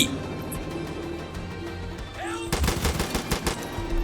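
Sniper and automatic gunfire in Far Cry 5, a dense burst of rapid loud shots erupting after a stretch of quieter game noise.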